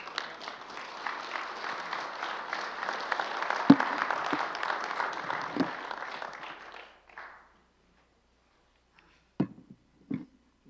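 Audience applause follows a talk, a dense patter of clapping for several seconds that fades out, then a couple of brief isolated sounds in the quiet afterward.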